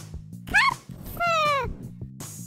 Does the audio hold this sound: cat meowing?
yes